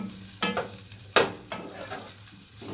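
Meat fat melts in a baking tray for a zucchini and meat dish, sounding as a soft sizzle under a few sharp scraping stir strokes, with no talk.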